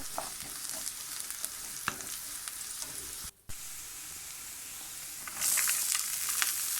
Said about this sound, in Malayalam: നന്നായിട്ട് മൂപ്പിച്ച് കഴിഞ്ഞിട്ട് അതിലേക്ക് നമ്മൾ അരിഞ്ഞു വെച്ചിട്ടുള്ള ചേമ്പന്തണ്ട് ഇട്ട് കൊടുക്കുകയാണ് ഞാനിപ്പോൾ